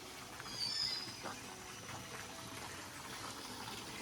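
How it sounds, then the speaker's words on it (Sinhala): Spring water flowing from a pipe along a hillside trail in Sri Lanka, a steady rushing gush with a brief louder swell near the start, moderately quiet and continuous. "මේ බලන්න මෙන්න මෙතන තියෙනවා මේ වතුර බටයක්"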